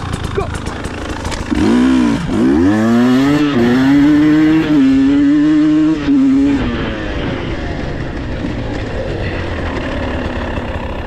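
A dirt bike with 28 hours on it fires up at a cross-country race start and revs hard, the loud engine climbing through surging rising pitches before fading into rough idle and background noise. A voice speaks briefly beforehand.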